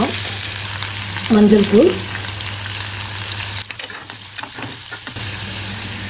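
Onions and lentils fry in hot oil in a pan for wheat flour dosa, with a steady close sizzle and stirring scrapes while a voice briefly speaks.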